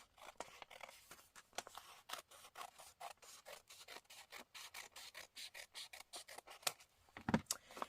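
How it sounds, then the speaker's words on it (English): Scissors snip through a paper window envelope in a quick run of short, crisp rasping cuts, fairly close and quiet, with one louder snip near the end and no talking. "I'm cutting the envelope along the bottom because they are sealed"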